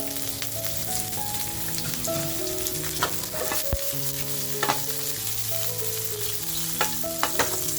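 Curry leaves, unpeeled garlic cloves and chilies crackle in hot oil, a steady, close sizzle running throughout with a few sharper pops and soft background music underneath.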